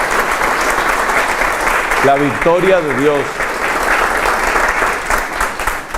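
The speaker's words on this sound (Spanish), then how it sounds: "pedir, por ejemplo, un aplauso de amor para ella" Steady applause fills a church audience space throughout. A single voice speaks briefly in the middle over the clapping.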